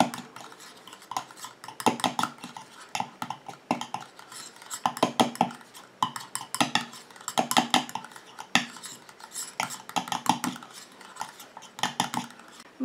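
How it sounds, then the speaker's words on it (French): A utensil stirs an anti-spot cream mixture in a bowl, giving repeated clinking and scraping strokes in a steady rhythm, close and fairly loud with no talk. "Et je mélange."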